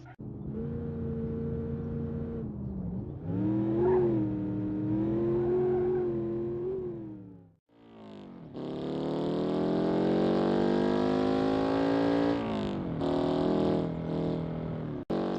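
A car engine in the driving simulator BeamNG.drive revs in clear harmonic tones, climbing and dropping through several pulls, then cutting out briefly before a long, loud rising wail and a final drop, heard alone.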